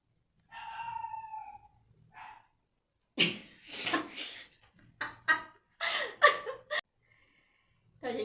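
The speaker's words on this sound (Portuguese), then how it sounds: "Tem um cachorro latindo." A dog barks in short, loud bursts somewhere nearby, clustered in the middle of the clip, with quiet gaps between them and a brief voice before the barking starts.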